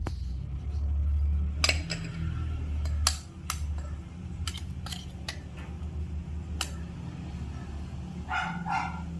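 A dog barks several times in short, sharp bursts at a distance, over a low background rumble and some clinking.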